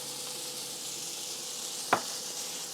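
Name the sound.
patty frying in pan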